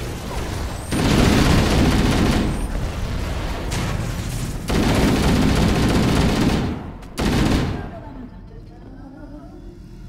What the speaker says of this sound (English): let's lob a couple of grenades